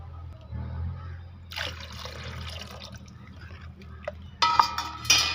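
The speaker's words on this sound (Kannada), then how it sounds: "ಸ್ವಲ್ಪ ನೀರನ್ನು ಸೇರಿಸ್ತಾ ಇದ್ದೀನಿ" Water is poured into a spicy small-sardine curry with green chillies and ginger, a soft liquid splash rising mid-way over a low kitchen hum, with sharper clinks and splashes near the end.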